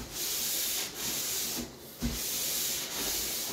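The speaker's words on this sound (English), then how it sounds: "she sanded it off, now she's dusting it off" Brushing or wiping dust off a freshly sanded wooden table top, a steady close rubbing hiss that runs almost continuously with a couple of brief pauses and a soft knock near the middle.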